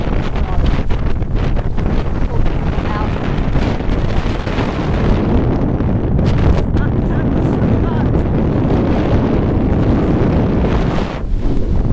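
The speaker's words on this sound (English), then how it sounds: "Very windy day." Strong wind roars steadily into the microphone on the water at Bradenton, Florida, buffeting and rumbling with gusts, with faint water and boat sounds beneath.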